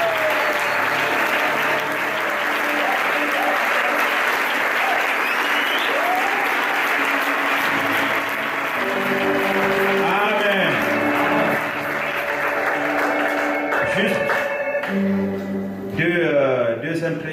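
A church congregation bursts into sustained, loud applause at a consecration service, dense clapping filling the room with voices and music rising beneath it.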